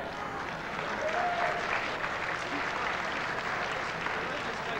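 Boxing crowd at the Sands in Atlantic City applauding and cheering during an opening round between two welterweights, a sustained wash of clapping and crowd noise at a moderate distance, with a voice talking over it.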